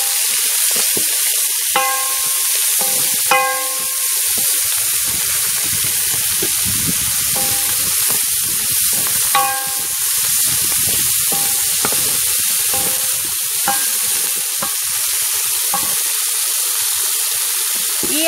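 Onion and bell pepper sizzle steadily in a hot pan, a loud, close, continuous hiss broken by a few sharp clinks of a utensil against the pan.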